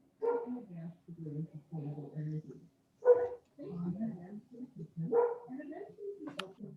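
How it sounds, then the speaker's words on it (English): A dog barks a few times somewhere in the room during an online business meeting, with people talking over it. "Someone's got a dog."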